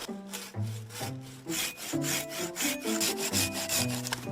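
A hand saw cuts through a heavy, dense, unrotted piece of wood in a survival cave setting, with rhythmic back-and-forth strokes, close and clear, each pass rasping with a tonal ring.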